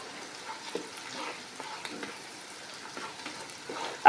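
Ginger, iru and other ingredients frying in a pot for egusi soup, with a faint sizzle and soft, irregular stirring scrapes nearby, and a sudden loud knock right at the end.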